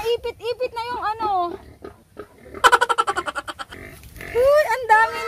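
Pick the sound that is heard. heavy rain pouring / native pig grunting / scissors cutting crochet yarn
native pig grunting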